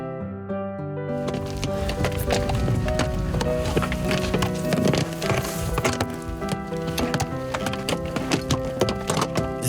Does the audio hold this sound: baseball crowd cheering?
no